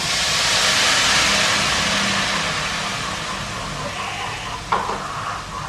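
Water poured into a hot pan of green bean thoran erupts in a loud, broad hiss that gradually settles into a lower steady simmer, with a brief clink near the end.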